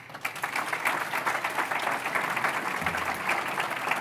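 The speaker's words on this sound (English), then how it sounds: "you deserve a big round of applause" Audience at an award speech event clapping steadily at moderate volume, a continuous dense patter of many hands that holds evenly for about four seconds, with no speech.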